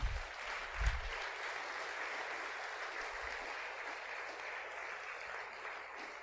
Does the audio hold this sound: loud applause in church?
yes